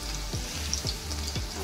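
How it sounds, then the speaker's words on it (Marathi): Garlic fries in hot oil for a tempering with a close, continuous sizzle and bubbling crackle, and a few low scraping stirs cut through it. "आता आपल्याला थोडंसं फोडणीसाठी लसूण टाकायचं आहे."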